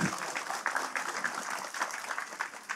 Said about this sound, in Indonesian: Beri tepuk tangan untuk beliau-beliau.